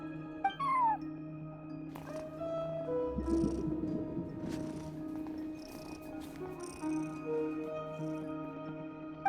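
A cat in Genshin Impact gives a few short meows and a soft purr, faint over a steady, quiet musical background.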